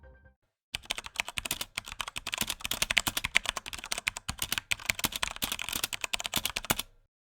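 Steady typing on a Durgod K320 tenkeyless mechanical keyboard with Cherry MX Silent Red switches: a rapid, even patter of soft, muted keystrokes, close and alone, starting after a short pause and stopping just before the end.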